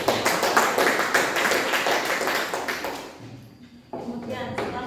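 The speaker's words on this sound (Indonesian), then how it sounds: "Tepuk tangan." Applause in a classroom after a group presentation, dense clapping from many students filling the first three seconds, then thinning out as quieter room noise and some talk follow.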